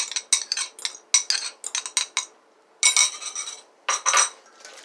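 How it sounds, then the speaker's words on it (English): Wire whisk beating egg and mustard in a bowl for Guyanese baked macaroni pie, quick bursts of bright metallic clinking and scraping in close rapid strokes, with short pauses between runs. "Give this a whisk. Add the whisked egg and mustard."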